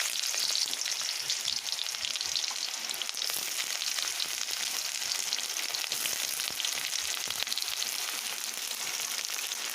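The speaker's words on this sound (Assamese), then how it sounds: "মই এতিয়া কাটি থোৱা পিঁয়াজখিনি তেলত" Chopped onions fry in hot oil for a local chicken curry, making a steady, fairly quiet crackling sizzle that runs throughout with no talking.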